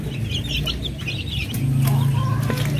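Chicks in a cage give a few soft clucks and chirps over a steady low background hum, with one brief, clearer call near the end.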